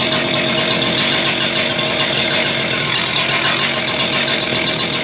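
A concrete saw engine idles a little high, a steady loud, dense mechanical drone with a rapid rattling pulse running unbroken throughout, with no talk.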